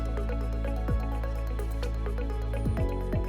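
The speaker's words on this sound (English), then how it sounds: "Allow water to fill the tank and wait until it starts exiting the outlet side of the head" Water gurgling and dripping as it fills a water filter media tank, with irregular near drips and low bubbling glugs over a steady wash of running water, no voices.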